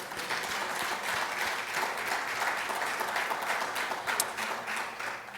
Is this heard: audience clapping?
yes